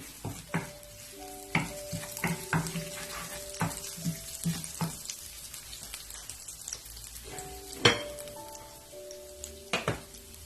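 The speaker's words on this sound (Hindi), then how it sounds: "अब मैं इसमें 1 टेबल स्पून सफेद जीरा डाल रही हूँ, 1 टीस्पून गार्लिक डाल रही हूँ चॉप। इसको मैं हल्का सा सौते करूंगी।" White cumin and chopped garlic sautéing in oil in a pan, a soft, steady sizzle broken by repeated clinks and scrapes from a spoon stirring against the metal, close and fairly quiet, with no one talking.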